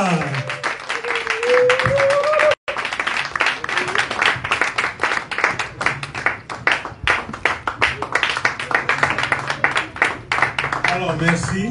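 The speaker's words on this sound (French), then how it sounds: "sous vos acclamations, nous allons recevoir le président Jean-Rémy Yama." An audience at a public talk in Port-Gentil claps to welcome a speaker, a dense run of many hands that swells and carries on steadily for several seconds.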